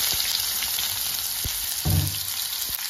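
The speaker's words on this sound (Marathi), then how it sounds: "एक मोठा चिरलेला कांदा घालून घेते" Chopped onion goes into hot oil with cumin, mustard seeds and curry leaves, giving a steady, close, loud sizzle with a brief surge of crackling partway through.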